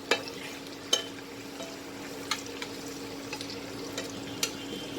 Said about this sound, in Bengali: পেঁয়াজ আর রসুনটা ভেজে নিচ্ছি।